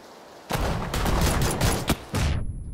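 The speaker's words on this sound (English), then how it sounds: "that grenade hurt my ears" Shooter video game combat with a rapid string of loud, close blasts, several sharp bursts within about two seconds, ending with a grenade explosion that leaves a high ringing tone.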